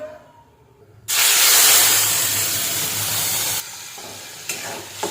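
Garlic paste hits hot oil in a pan for a prawn dish, bursting into a loud, steady sizzle and hiss that holds for a few seconds, then eases slightly, with faint stirring scrapes.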